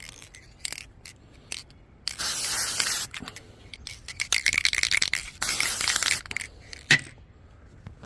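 Spray paint hisses onto a Vox guitar amp logo in several short bursts and two longer sustained blasts. The sound is close and fairly loud, with small rattles and scrapes between sprays and no talking.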